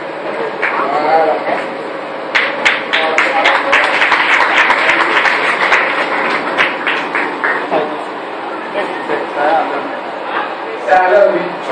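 An audience in a church service claps and cheers, a dense burst of applause that builds and then thins out, with a voice speaking over it and a brief renewed clap near the end.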